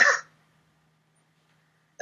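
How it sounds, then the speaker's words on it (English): A single short, harsh cough close to the mic, followed by near silence and the start of another sound at the very end. "I have this bad cough."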